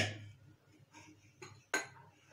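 A cooking pot is handled on a kitchen surface, a few short metallic clanks and knocks spread over a couple of seconds, close and fairly quiet, with no talking.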